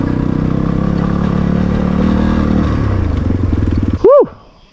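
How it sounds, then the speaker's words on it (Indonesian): A motorcycle crashes and slides on a loose stone track: the engine runs loudly and choppily, then drops into rattling clatter and ends with a brief, sharp, rising-and-falling tonal cry. "Motor crash teman-teman."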